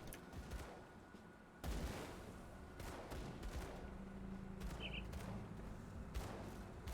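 Sustained gunfire in the Grim Dawn action RPG, an acid-build witch-hunter firing nonstop, with dense rapid shots and bursts layered into a loud, continuous barrage alongside game effects.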